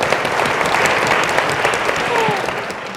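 An audience at a 2014 work-life summit panel applauds after a panelist's answer, a full, dense burst of clapping that fills the room and starts to fade near the end.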